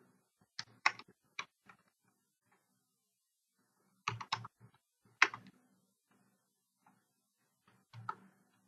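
Bursts of computer keyboard typing in a quiet room, a quick cluster of clicks, a pause of a couple of seconds, then more short runs of keystrokes, close and fairly soft.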